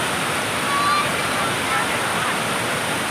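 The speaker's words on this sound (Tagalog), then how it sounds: "Ingkalit la pagtubo ang tubig." A river in sudden flood rushes over a spillway, producing a loud, continuous broadband roar of churning water that holds steady from start to finish.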